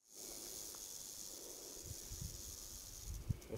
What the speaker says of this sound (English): The sound you're hearing is rattlesnake.